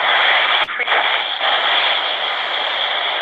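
Steady hiss and crackle of AM radio static from a ghost box sweeping stations, loud and continuous, with a brief sharp click near the start and a faint voice-like fragment under the noise.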